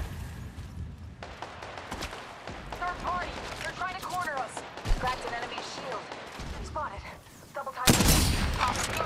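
Rapid gunfire in a video game, with steady bursts of shots running under overlapping voice callouts and a loud burst of fire near the end.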